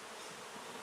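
Honey bees swarm at an open beehive, giving a dense, steady buzz that stays close and constant for under a second, with no voices.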